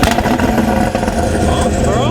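A Stage 2+ BMW 540i with anti-lag gives a loud, close, continuous engine roar and rumble, with excited voices talking over it.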